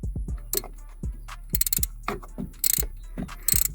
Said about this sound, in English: tighten it by hand and then get the wrench, which is a 3/4